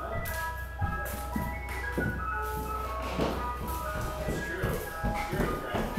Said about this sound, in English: You hear the ice cream truck outside.